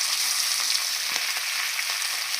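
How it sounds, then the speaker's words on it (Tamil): Marinated sardines sizzle and fry steadily on a hot dosa griddle, a continuous close crackling hiss with no talking. "இதை நான் தோசைக்கல்லில் போட்டு எடுக்க போகிறேன்."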